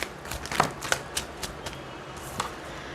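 Tarot cards are shuffled and drawn in quick, crisp riffles and flicks, several short papery bursts spaced irregularly, close and fairly soft.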